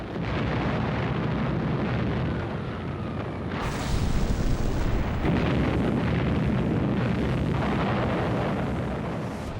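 Heavy wartime artillery bombardment in an archival Second World War recording: a dense, rumbling roar of booms and blasts, loud and continuous with bursts swelling midway.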